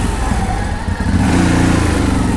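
The CFMOTO X8 H.O. EPS motorcycle's engine runs steadily and loudly up close, a continuous low drone that thickens and grows slightly stronger in its second half.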